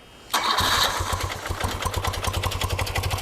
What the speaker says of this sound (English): as soon as I started the thing up, it idles great, it revs good